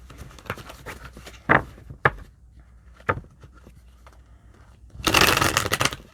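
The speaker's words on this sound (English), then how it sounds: "let me just shuffle the next one" Tarot cards are handled close up with a few sharp snaps, then a riffle shuffle rushes at the end; no talking.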